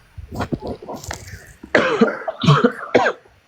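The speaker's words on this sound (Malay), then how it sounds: "Batuk sikit, dah petang." Several harsh coughs and throat-clearing bursts, close and loud, coming in uneven clusters with brief pauses between them.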